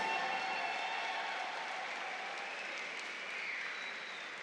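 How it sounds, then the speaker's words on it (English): Sustained applause from an arena crowd at a professional fight, honoring both fighters after the final bell; dense, steady clapping fills the whole stretch at even loudness, with no talk over it. "a round of applause for both of these"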